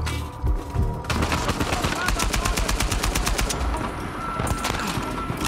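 Sustained automatic gunfire in the video game Uncharted 4, set in Scotland, with rapid repeated bursts filling the scene loudly and continuously alongside game ambience.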